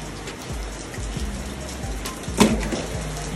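Steady rain patters outdoors on a gloomy day of crappie fishing, a dense even hiss with a few louder drops, continuous and without talk.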